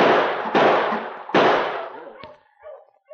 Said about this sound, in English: he amused himself by taking target practice with his six-shooter on a tin can